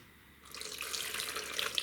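Running water starts abruptly and pours steadily into a soup pot, a bright splashing rush filling the container close by.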